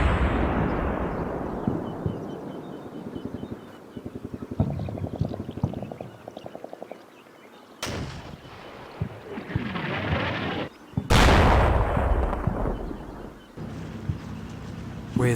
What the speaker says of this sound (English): the SS Hitler Youth start bringing in a barrage